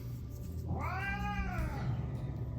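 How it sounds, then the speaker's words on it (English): Cats fighting indoors give one long, rising and falling yowl at a moderate distance over a low background hum, with no talking. "Cats are fighting."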